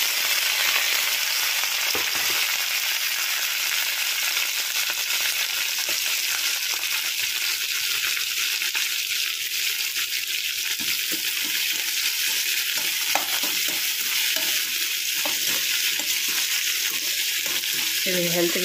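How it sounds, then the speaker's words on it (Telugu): Curry leaves, onion, ginger and green chillies fry in hot oil with peanuts in a tempering for poha pulihora, giving off a loud, steady sizzle with occasional stirring clatter up close. "అందులో కరివేపాకు, ఉల్లిపాయలు, అల్లం, పచ్చిమిర్చి వేస్తున్నాను."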